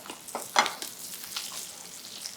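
A skate fillet fries in a pan for meunière, giving a soft, steady close sizzle with a few brighter crackles and spits, and no talk over it.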